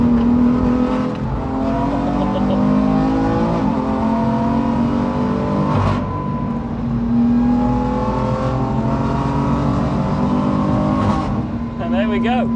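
A 525 bhp BMW F80 M3 lapping the Nürburgring, its loud, close engine holding a rising howl that drops sharply at several gear changes before climbing again, roaring continuously throughout.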